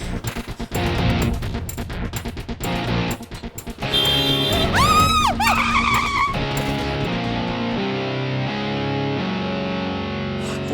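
A car brakes hard and skids, its tires squealing in a loud rising and falling screech over engine and street noise, then settling into a steady rumble.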